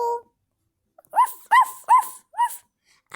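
A sick dog whimpers in four short, high, whining yelps spaced evenly after a faint earlier sound, close and alone in a quiet room.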